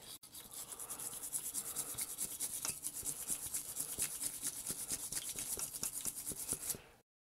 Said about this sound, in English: We're just going to use the brass brush and we're going to be able to clean away some of this gray primer look I keep talking about.